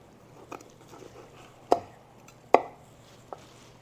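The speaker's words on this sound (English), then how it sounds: "Let's cut this turkey." A knife cuts smoked turkey off the bone, giving a few sharp, close chopping knocks spaced a second or so apart over quiet background.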